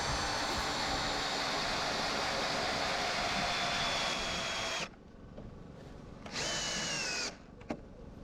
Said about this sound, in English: Fastened each board with 2 batten screws into each log.